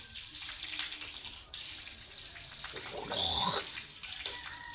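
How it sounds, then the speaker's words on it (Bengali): Water runs steadily from a tap while hands are washed for ablution, a close continuous stream with splashing that swells toward the end. "ভালো করে হাতগুলো ধুয়ে কলি পর্যন্ত কবজা পর্যন্ত ধুয়ে 3বার কলি করবেন"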